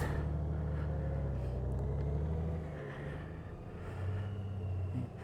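A 2023 Honda Goldwing motorcycle rumbles at low speed through a figure eight, its steady low engine drone shifting slightly as it turns, with no talking.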